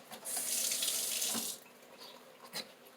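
Tap water runs from a faucet into a sink for about a second and a half to rinse a dried plant pod, a loud, steady hiss that cuts off abruptly, followed by quiet handling noises and a brief clink.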